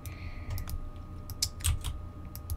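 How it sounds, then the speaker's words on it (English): A loud, clicky mechanical computer keyboard is typed on in quick irregular bursts of sharp key presses, close and clear against a quiet room hum. "I like this mechanical keyboard, but it's really loud."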